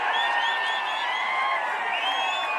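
A football stadium crowd at the Oil India Gold Cup grand final reacts with a steady, distant roar of voices and scattered whoops, a continuous wash of cheering with no single voice standing out.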